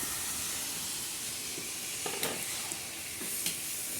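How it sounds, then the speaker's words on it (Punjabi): Chopped tomatoes stirred into vegetables frying on a stove for a tomato-onion chutney, with a steady close sizzle and a few soft scraping stirs. "ਹੁਣ ਆਪਾਂ ਜਿਹੜੇ ਕੱਟੇ ਟਮਾਟਰ ਨੇ ਨਾ ਹੁਣ ਇਦਾਂ ਹੀ ਇਹਦੇ ਵਿੱਚ ਪਾ ਦੇਣੇ"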